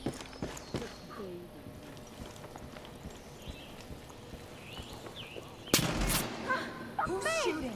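Gunshots ring out in a Far Cry 5 gameplay scene, a few sharp bursts early on and a louder, denser cluster near the end, with ambient game sounds and a bird-like chirp in between.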